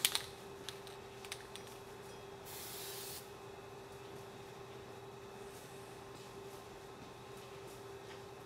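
A short hiss of spray paint lays another coat on the marker lights of a Toyota Land Cruiser FJ80, one burst of about a second, close and quiet, with a few faint clicks and a low steady hum around it.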